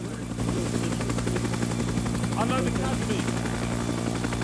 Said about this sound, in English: Jesus Christ, all these aircraft are levitating.